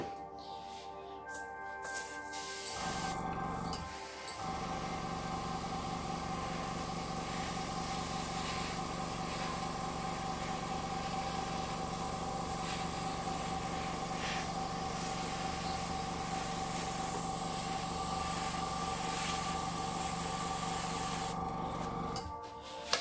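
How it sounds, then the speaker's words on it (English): An air compressor runs steadily during a fluid art painting session, a loud continuous mechanical drone that starts after a few seconds and holds for nearly the whole stretch before cutting off near the end. "I know the noise of the compressor is a pain."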